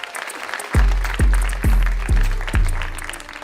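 Audience clapping breaks out for a comedian at a live studio show, coming in five sharp, rolling swells one after another with a roomy, crowd-filled sound.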